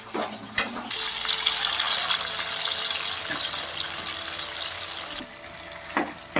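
Chopped onions and green chilies dropped into hot oil with mustard seeds for a ridge gourd and chana dal curry, an abrupt loud sizzle that settles into a steady close hiss for several seconds before cutting off.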